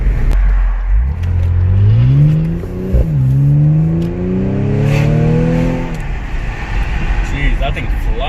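An Audi S5 accelerating hard past on an outside drive-by, its engine note climbing through two gears with a brief shift break, loud and close, then fading away into background noise.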